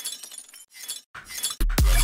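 Glass shattering sample used in music production, a bright crash of breaking glass with scattered clinking shards, ending in a loud, heavy impact.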